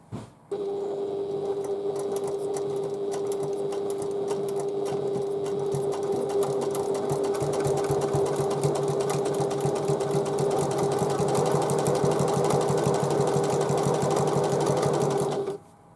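A sewing machine stitches steadily along a zip on a handmade bag, a continuous close, even motor hum with rapid needle ticking that runs almost unbroken for the whole stretch before stopping.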